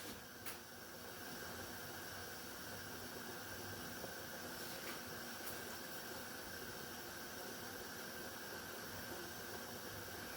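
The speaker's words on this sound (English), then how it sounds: "you guys can see that there's flow of steam that's coming out of that hole" Steam hisses steadily and faintly from the vent of a canner while tomato sauce is being canned, a constant airy hiss with a few small clicks near the start.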